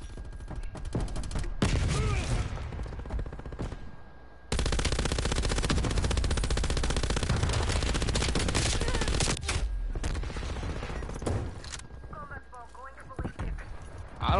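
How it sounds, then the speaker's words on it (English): Heavy video-game gunfire, long sustained automatic bursts that are loud and close, broken by short pauses, with a voice speaking at times over the shooting. "I don't like this gun, dude, I swear."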